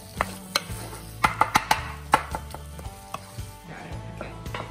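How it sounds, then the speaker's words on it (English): Tomato puree is stirred into a curried chicken mixture in a pan, a handful of close spoon knocks and scrapes against the pot in uneven bursts over a faint sizzle, then softer scraping. "Stir that all together"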